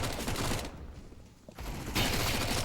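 Rapid bursts of Mac-10 submachine gun fire in Counter-Strike on the Nuke map, loud and dense at the start, dipping into a quieter gap, then returning as another sustained volley.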